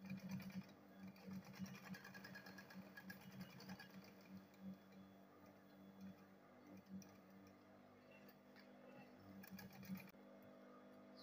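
A sewing machine stitching lining onto a handbag runs as a steady mechanical whir with fast rhythmic ticking, close and quiet, pausing briefly and then carrying on with no speech.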